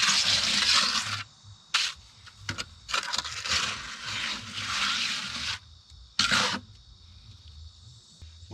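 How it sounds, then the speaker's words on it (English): Water poured from a bucket onto the ground beside a shed ramp, in several loud splashing gushes separated by short quiet gaps. "We're gonna add a little water"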